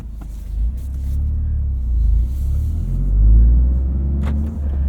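A 2023 Toyota GR Corolla drives through a Michigan winter, its engine giving a steady low rumble from inside the cabin that swells briefly midway, with a couple of faint knocks and no voices.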